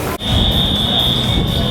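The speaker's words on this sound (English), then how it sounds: "the fire alarms have gone off, but this time it's the entire side, not just World of Disney" A fire alarm sounds across one side of Disney Springs early in the morning: a loud, steady, high-pitched electronic tone holds continuously over a busy murmur of crowd noise.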